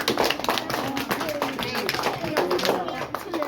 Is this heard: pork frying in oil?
no